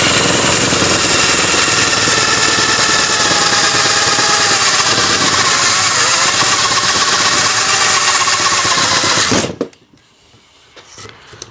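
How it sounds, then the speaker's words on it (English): Power drill with a 20mm bit boring through a shaft on a 1961 Cadillac DeVille, a loud, harsh grinding whir that runs steadily for about nine seconds, then cuts off to near quiet. "So yeah, I'll just drill this through now"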